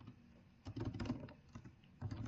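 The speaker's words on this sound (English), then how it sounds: "start typing" Keys clatter on a computer keyboard in short bursts of quick clicks, pausing briefly between runs, fairly close and moderately quiet, with no talking.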